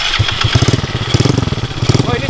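A racing-spec Yamaha Mio motorcycle is kick-started by hand and its engine catches, giving loud, close, rapid pulsing firing beats over roughly two seconds.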